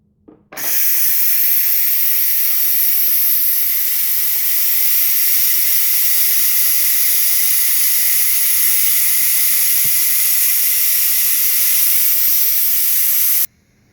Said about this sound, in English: So let's go ahead and release that pressure.